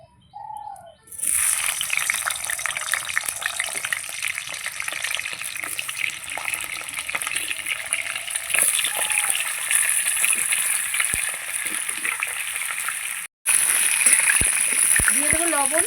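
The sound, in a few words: potatoes frying in hot oil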